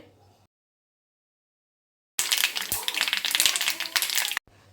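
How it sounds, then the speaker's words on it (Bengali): Black mustard seeds pop and crackle in hot oil in a pan, a dense burst of sharp spattering snaps lasting about two seconds after near silence. "সর্ষে ফাটতে শুরু করেছে"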